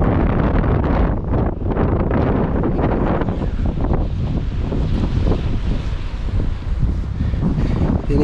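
Strong wind on a tropical island blowing hard across the microphone, a continuous loud roar and buffeting with surf washing in the background.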